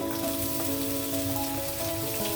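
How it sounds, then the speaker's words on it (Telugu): Onion frying in a pan, a steady, close sizzle with crackling spatter running unbroken throughout, no talking. "ఇది ఆనియన్ వేసాను. ఇది కొద్దిగా ఫ్రై అయితే"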